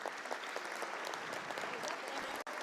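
Lawmakers and guests on the West Virginia House floor give a visiting page a round of applause, steady and fairly distant, with a murmur of voices beneath and a brief dropout near the end.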